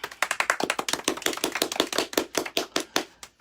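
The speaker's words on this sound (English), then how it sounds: "nice round of applause" Dense live audience applause at a home concert, a crowd clapping steadily and loudly up close with sharp individual claps throughout.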